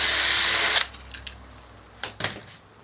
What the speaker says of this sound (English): you can get to the these nuts with the drill